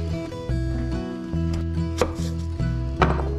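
A knife chopping apples into chunks on a board: a few sharp, separate chops at a slow, uneven pace over steady background music, with no talk.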